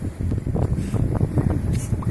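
Seaside wind blowing steadily into the microphone, a continuous low rumbling buffet for a couple of seconds with faint voices beneath it.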